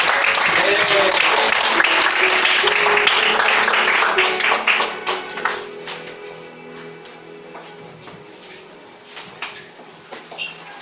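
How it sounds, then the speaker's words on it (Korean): Church congregation applauding at the end of a Korean Monday worship service: a loud burst of many hands clapping that thins out and fades into scattered claps, with a voice briefly over it. "우리 하나님께 큰 박수 영광을 드리겠습니다"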